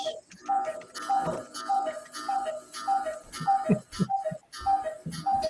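A novelty cuckoo clock ticks in a steady, regular rhythm close to the microphone, each tick carrying a bright tonal ring, with a few heavier knocks mixed in.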